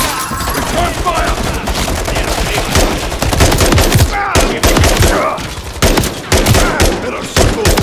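Rapid bursts of automatic gunfire ring out in a Call of Duty: Modern Warfare 3 firefight, loud and close, with overlapping volleys and shouted voices mixed in.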